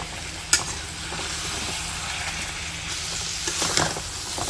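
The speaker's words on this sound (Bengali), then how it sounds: "এখন হচ্ছে টমেটোগুলো দিয়ে দিই।" Meat, potatoes and tomatoes stir-fried in a pan, with a steady sizzle and scraping spatula strokes, including a sharp clack near the start and another burst of scraping toward the end.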